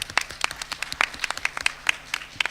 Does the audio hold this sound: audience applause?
yes